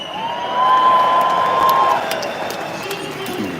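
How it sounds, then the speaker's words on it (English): A farmers' protest crowd cheers and claps for a speaker, a swelling burst of cheering and whoops in the first seconds that fades to a murmur, with a person talking over it. "give her a loud cheer, everyone"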